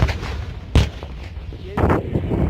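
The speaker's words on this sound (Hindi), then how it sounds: "ये सामने से देखिए ये फायरिंग हो रही है। ये गजा पट्टी की तरफ जो है वो फायरिंग हो रही है" Artillery fire near the Gaza border, aimed toward the Gaza Strip: two heavy, distant-sounding booms roll out over a constant rumbling background, one early and one near the end.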